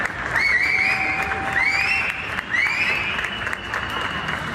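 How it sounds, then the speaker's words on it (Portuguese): Applause from people at their windows in Chile at night, honoring doctors on the coronavirus front line, a sustained dense clapping with whistles and cheers rising over it, heard from a distance across buildings. "À noite, chilenos se uniram nas janelas para aplaudir os médicos que estão atuando na linha de frente"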